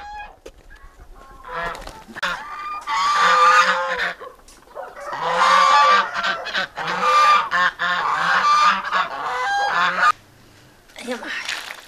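Farm geese honk loudly and repeatedly in harsh bursts of several calls, with short pauses between the bursts.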